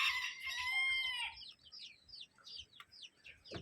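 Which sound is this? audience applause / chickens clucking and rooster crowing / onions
chickens clucking and rooster crowing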